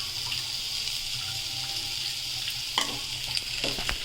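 Cluster bean curry frying in a pan, with a steady close sizzle and a few sharper stirring scrapes near the end.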